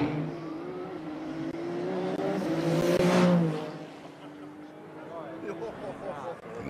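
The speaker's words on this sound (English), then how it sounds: "Arriva la 499. The car comes right now with." A Ferrari 499P hypercar approaches on the Imola circuit, its engine note rising to a loud pass around the middle and fading after, with an announcer talking over the whole run.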